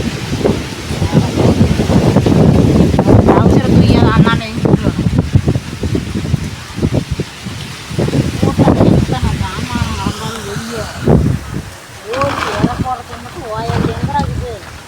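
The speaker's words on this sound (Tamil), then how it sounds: "ரொம்ப காற்றுலாம் அடிக்குது." Strong wind buffets the microphone with a steady low roar throughout, while people talk over it nearby.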